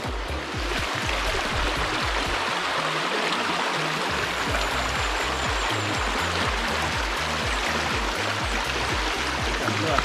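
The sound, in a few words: river water pouring and streaming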